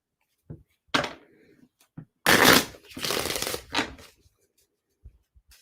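Tarot cards being shuffled by hand, close riffling bursts and soft slaps, a couple of longer rustling runs among scattered taps and pauses, no speech.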